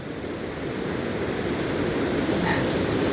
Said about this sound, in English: I am just at the edge of the huge waterfall here